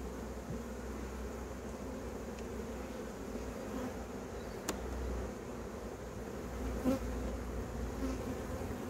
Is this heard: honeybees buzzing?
yes